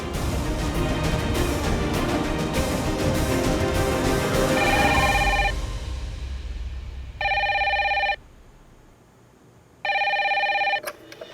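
A landline telephone rings over a speakerphone in an office, two loud electronic ring bursts separated by a pause and following a stretch of busy background noise.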